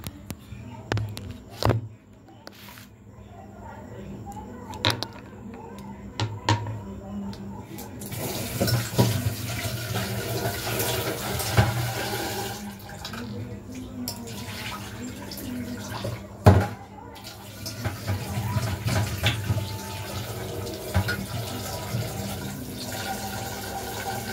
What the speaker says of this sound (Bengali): এই দেখো আলুটাকে ধুয়ে নিলাম